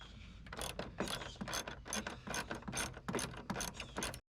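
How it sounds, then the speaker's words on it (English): A ratchet wrench loosening a 10mm nut on a Ford F250/F350 truck, rapid rhythmic clicking of the pawl in quick repeated bursts, close and clear with no talking. "So you're just going to need a wrench to get this one off."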